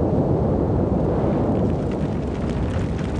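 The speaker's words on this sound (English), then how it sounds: "Red-hot lava erupts from deep within the earth, exploding high into the sky in fiery displays." Red-hot lava erupting and exploding on Hawaii, heard as a continuous heavy low rumble and roar with a rough, blustery texture, loud throughout.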